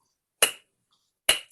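Two sharp, isolated hand claps ring out close by, nearly a second apart, each with a quick bright attack and short decay against silence, part of clapping along to a song.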